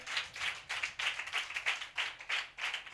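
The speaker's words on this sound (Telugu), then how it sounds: "కొట్టు చప్పట్లు గట్టిగా, ఇంకా గట్టిగా." A crowd claps loudly at a religious sermon gathering, with bursts of applause in a quick, uneven rhythm that swells and dips several times.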